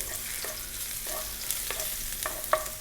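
Thick-cut ginger sizzles and fries in hot oil in a wok over high heat, a steady soft crackle broken by a few sharp spits and stirring clinks, close and fairly quiet.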